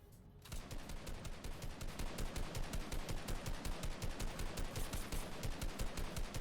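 In Fortnite, a sustained exchange of rapid automatic gunfire starts abruptly and keeps going, a dense rhythmic stream of shots at moderate distance with no pauses.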